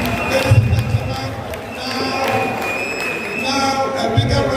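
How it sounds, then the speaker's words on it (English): A crowd at a political campaign rally in Navrongo Constituency claps and cheers in a steady wash of applause beneath a loud announcer's amplified voice, with brief bursts of louder noise near the start and end. "now a bigger round of applause for yourselves"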